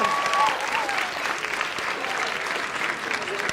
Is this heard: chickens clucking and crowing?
no